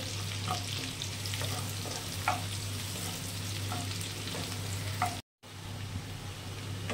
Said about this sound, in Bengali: এবারে দেবো একটা পেঁয়াজ কুচানো আছে, কুচানো। ভেজে নেব, নরম হবে।